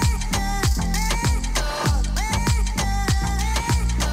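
Electronic dance track with a syncopated dotted-eighth bass pattern, loud and continuous, with punchy kick hits and bright synth chords riding over the bouncing low line.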